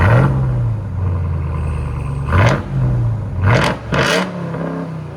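A 700hp RAM TRX pickup truck engine revs up sharply several times, each burst of throttle rising and falling over a rumbling idle, loud and close.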